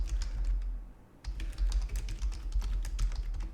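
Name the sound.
computer keyboard typing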